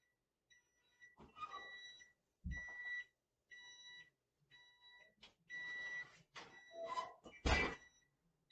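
A kitchen timer buzzer repeats in a steady series of short electronic beeps during cooking, with clattering and handling noises breaking in between the tones.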